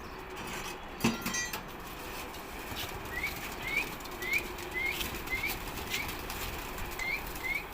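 Pigeons being let out of their coop flutter and flap their wings nearby, with a string of short, high chirping squeaks repeating steadily over a rustling background.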